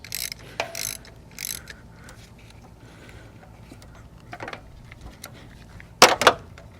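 A thread tap cuts new spark plug threads into the aluminum cylinder head of a Toyota 5S-FE engine, heard as sparse, scattered mechanical clicks and ratcheting scrapes with one sharper burst near the end.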